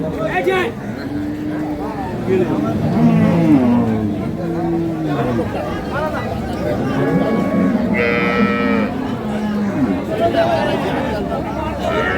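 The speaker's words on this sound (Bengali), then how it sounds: "এটা বাছুর" Cows and a calf mooing at a crowded village cattle market selling improved-breed dairy cows with calves, several drawn-out moos one after another over steady crowd chatter and bargaining voices.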